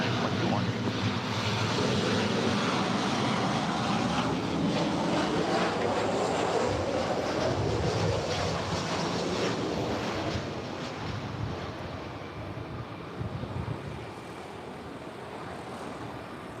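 An airliner takes off from runway 24 Left at LAX with a sustained, broad jet roar mixed with wind noise, which slowly fades as it pulls away.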